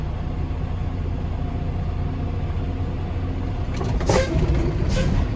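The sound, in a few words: truck with trailer pulling forward during air brake test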